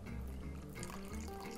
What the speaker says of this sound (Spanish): ahora tenemos que poner lo que es una cucharada sopera de agua